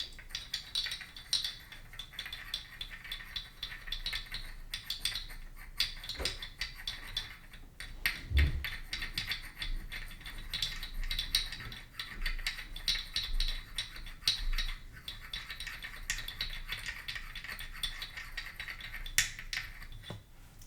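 A drink being mixed in a cup at a wooden-themed coffee shop, with soft stirring, clinks and rattles of a utensil against the cup, close up and quiet, and no talking.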